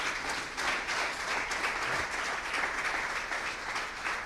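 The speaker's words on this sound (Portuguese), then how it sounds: "Dê um aplauso ao Senhor." A church congregation applauds during a sermon, steady crowd clapping sustained for several seconds, moderately distant and without talk.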